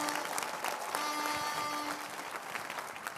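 A church congregation claps steadily throughout, dense and sustained applause with a faint tonal hum underneath.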